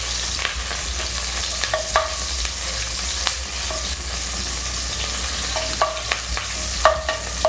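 Ginger slices and scallion segments stir-fry in a wok, giving a steady oil sizzle with repeated scraping clinks of a spatula against the metal and no talk.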